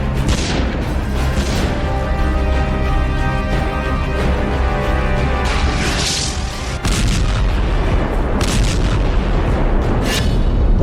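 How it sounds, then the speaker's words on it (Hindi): Artillery cannon fire and attack-helicopter shelling in the Russia-Ukraine war, a dense run of heavy booms and blasts over a continuous loud rumble, with no talking. "तोप से निकलते शोले और जंगी हेलीकॉप्टर से बरसते बारूदी गोले"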